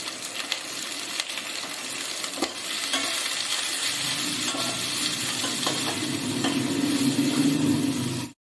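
Potatoes with onion frying in a pan for dosa aloo palya, a loud, dense sizzle under scattered stirring clicks and scrapes, building steadily before cutting off abruptly at the end.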